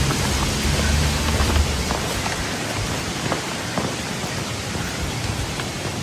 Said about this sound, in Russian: Дождь, ветер.